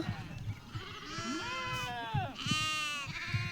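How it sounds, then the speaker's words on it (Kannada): Lambs bleat repeatedly in high, wavering cries, some overlapping, with faint talk and shuffling noises in the background. "ಅವು ಮರಿ ಕುರಿ"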